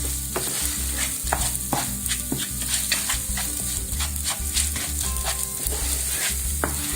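Rice for an anchovy rice dish fried and stirred in sofrito, a steady close sizzle broken by repeated scraping spoon strokes across the pan, with no voices.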